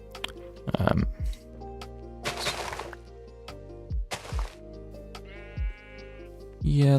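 Several short sheep bleats from a video game, spaced irregularly and mixed with sharp game clicks and breaking-block cracks, with a sustained background drone.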